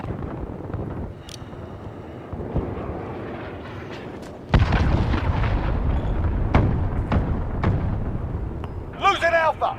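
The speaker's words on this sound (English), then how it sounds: "Allied cruise missile away" Cruise missile strikes in the Call of Duty: Modern Warfare video game, a heavy boom hitting midway, then rumbling battle noise and sharp gunfire cracks with radio voices over the top.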